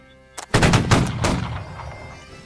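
A musket volley fired by rank in the game Holdfast: a brief pair of shots, then a loud ragged crackle of many muskets going off almost together, rolling into a fading echo.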